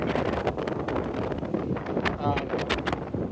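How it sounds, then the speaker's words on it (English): Strong wind buffets the microphone in a steady, rumbling roar, with gusty low-frequency noise throughout and occasional brief rustles. "It's very windy."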